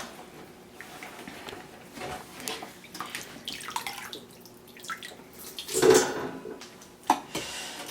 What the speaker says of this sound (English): I'm going to start offloading the bones and everything that's been simmering in this.